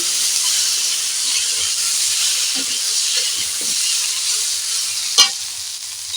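Water poured into a pan of frying red lentils and Malabar spinach sends up a loud, steady steaming hiss, with one sharp clink of a utensil near the end, and no talk.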